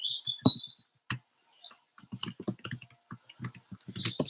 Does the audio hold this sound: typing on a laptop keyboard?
yes